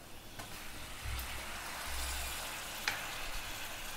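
Sliced onions with cumin and turmeric fry in a pan, giving a soft, steady sizzle with a few light scrapes and stirs.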